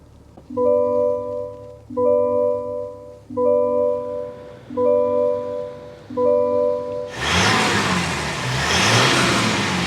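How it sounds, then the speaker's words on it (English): Inside a 2024 Chevrolet Silverado 1500 LTZ pickup, a row of repeated electronic cabin chimes sounds before the diesel engine fires up and its exhaust rumbles loudly and close, drowning out everything else for the last few seconds. "start up this diesel, so you can hear that exhaust note"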